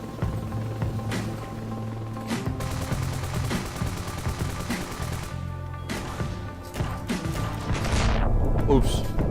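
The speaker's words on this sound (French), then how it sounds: "Il y a un mec qui me tire dessus là par exemple" Rapid gunfire rattles through a Ravenfield battle, bursts of automatic shots and sharp cracks piling up over several seconds, with a louder blast near the end and a voice talking over the action.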